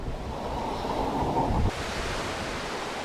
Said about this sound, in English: This trek, one squall after another after another.